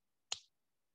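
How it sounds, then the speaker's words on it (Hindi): A single crisp finger snap sounds in an otherwise silent room, close and fairly quiet, with a short bright decay. "जब मैं चुटकी बजाऊंगी"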